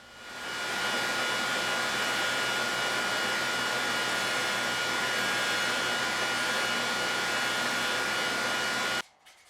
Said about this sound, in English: Some blending on the slack belt.